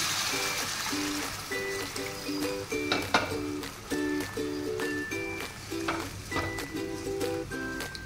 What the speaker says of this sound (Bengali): এবারে এই বাটিটা ধুয়ে জল দিয়ে দিই।